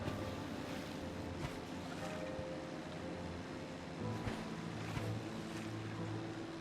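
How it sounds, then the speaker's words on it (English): A steady broadband wash of water and engine hum as a boat cruises along in the video game Submerged, constant and moderately loud with faint splashes. "I'm just going to kind of park the boat."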